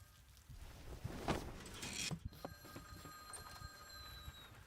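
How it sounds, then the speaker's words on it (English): A telephone rings persistently in a visual novel video game, a steady electronic bell tone repeating over a faint background with soft shuffling movement, no talk. "The caller proved incredibly persistent. The persistence made the volume of the ringing seem even louder."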